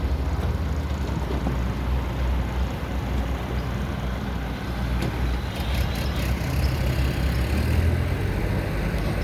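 A SANY SY215C excavator's diesel engine runs steadily outdoors, a constant moderate rumble with a faint hiss and occasional clinks over it, no talking.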